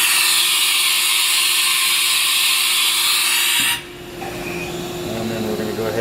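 Tool change on a 1997 Haas VF-0E CNC vertical machining center: a loud, steady mechanical whir and hum that abruptly drops and shifts to a lower, rougher running tone partway through, with no talking.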